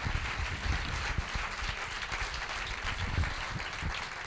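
Audience at a Catalan film presentation and discussion applauding, a fairly soft, steady patter of many hands clapping from the room, continuous throughout without speech.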